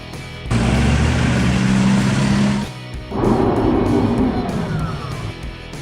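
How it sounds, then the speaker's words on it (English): A concrete mixer truck rumbles loudly nearby in two heavy engine bursts separated by a short pause, each with a deep low drone. "Concrete mixer."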